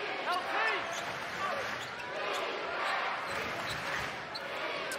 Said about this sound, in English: The ball bouncing around.